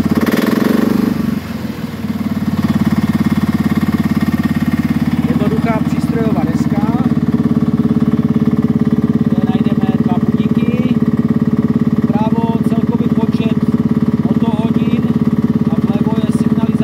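A 940 kg Baugarden BG900-series mini excavator's small diesel engine idles steadily and loudly throughout, a constant low rumble with faint clicks and brief higher tones over it.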